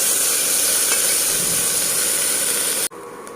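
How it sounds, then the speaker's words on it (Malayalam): Crushed ginger, garlic and chopped onion sautéing in a pan for Kerala erachi choru, a steady broadband sizzle and stir with no talk, cutting off abruptly near the end. "നമ്മൾ ചതച്ച് വെച്ചിരിക്കുന്ന ഇഞ്ചി വെളുത്തുള്ളി, പിന്നെ അരിഞ്ഞ് വെച്ചിരിക്കുന്ന ഉള്ളി ഇത്രയൊക്കെ ഒന്ന് വഴറ്റാം"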